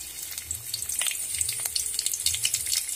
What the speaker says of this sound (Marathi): आपले जिरं मोहरी आता भाजत आहे।